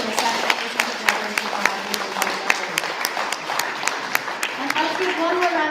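A spelling bee audience breaks into warm applause, with many hands clapping in a steady, dense patter that holds for several seconds while a voice speaks over it.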